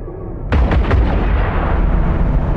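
Ship weapons in the EVE Online space game fire at a locked target, opening with a loud sudden boom followed by a few rapid blasts, then a sustained heavy rumbling roar that carries on to the end, with no voices.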